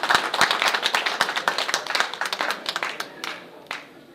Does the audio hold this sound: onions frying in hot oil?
no